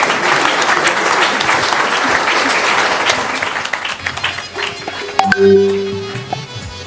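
Loud applause from a crowd at a Rotary club installation ceremony in a hotel, dense and steady for several seconds, then fading as a few tonal notes and faint music rise near the end.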